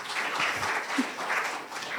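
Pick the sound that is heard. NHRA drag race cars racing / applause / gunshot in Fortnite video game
applause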